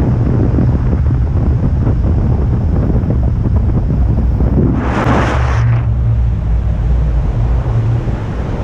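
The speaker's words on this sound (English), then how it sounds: "Wind is starting to turn." Strong wind roars steadily across the microphone while paragliding over the Mussel Rock coast, a constant loud rush with a brief brighter gust midway, and no voices.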